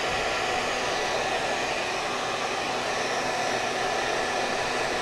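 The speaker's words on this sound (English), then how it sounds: "I'm going to give the dryer about 1 more minute" A hair dryer runs steadily and close by, a constant loud whoosh used to heat and crinkle ribbon for junk journal ephemera, with no talking.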